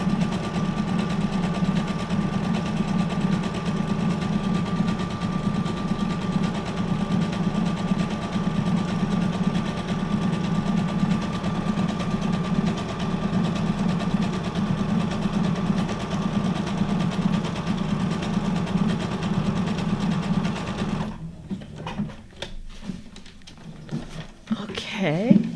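A sewing machine stitches steadily through a junk journal cover made from a Little Golden Book, a continuous close whirring hum that runs for about twenty seconds before stopping abruptly, followed by quieter handling noises.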